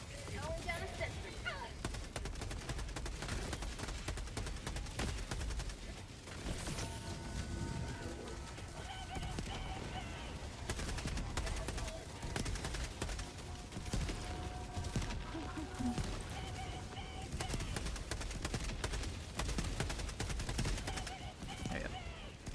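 A sentry turret called down in Helldivers 2 fires long, dense bursts of gunfire for about twenty seconds. The shots keep going in rapid volleys among other battle noise, with a voice talking now and then.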